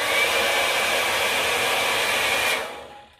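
A Babyliss hot air brush dryer runs with a loud, steady, full-bodied whoosh and a faint high whine, as noisy as a normal hair dryer, then cuts off near the end as the airflow dies away.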